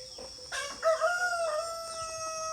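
A rooster crows once with a long, ringing call, close by, set against a faint background of chickens on a farm; no one speaks during it.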